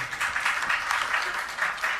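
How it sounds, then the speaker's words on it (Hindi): During a Jain religious gathering, an assembled audience applauds young children from a pathshala, producing a steady, moderately distant wash of clapping throughout. "एक बार जोरदार ताली बजा दीजिए"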